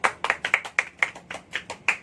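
A classroom of students claps in unison during a teaching session, about nine sharp, evenly spaced rhythmic claps at a quick steady tempo, fairly close and moderately loud with no talking.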